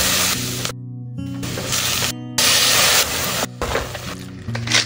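Lamb frying in olive oil, a steady loud sizzle with bursts of crackle and spatter that drop out briefly and return, close up with no talking.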